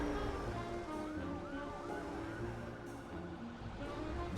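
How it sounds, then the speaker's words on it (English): Police car siren wailing on a canal, rising and falling tones running steadily throughout with no talk, moderately loud under constant background rumble. "I think that was a police car."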